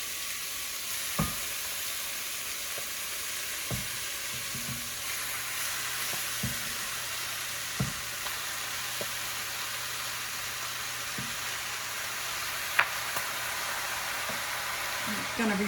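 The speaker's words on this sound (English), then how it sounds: "Okay, so you're going to saute that until it gets fragrant, and it is fragrant. We're going to add some of the sauce." Spaghetti sauce added to a sautéing pan gives a steady, hissing sizzle throughout, close and even, with a few light knocks of a utensil and a voice heard faintly at times.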